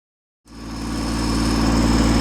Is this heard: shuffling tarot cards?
no